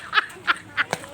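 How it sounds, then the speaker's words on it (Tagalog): A duck quacks four times in short, evenly spaced bursts, fairly close and clear over a soft background hiss with faint voices. "natumba na yung bibe, Mot."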